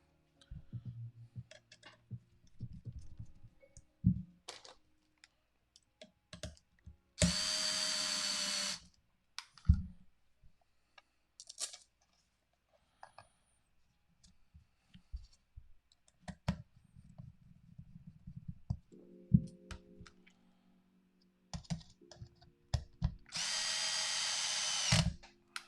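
A small power driver runs in short whirring bursts, driving flat screws into the chassis of a hobby RC car, with soft clicks and the light handling of parts between the runs.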